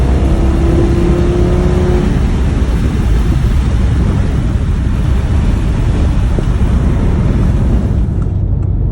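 A 2018 Audi TT RS drives with its windows down, a loud, dense rush of wind and road noise buffeting steadily throughout, with a brief engine tone early and no voices.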